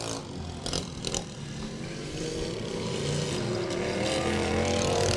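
Racing lawn tractor engines at Laird Raceway during a lawn tractor feature event, a continuous loud engine drone that swells slightly as it nears, with a few brief clatters early on and no talking.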